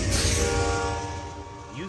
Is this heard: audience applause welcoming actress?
no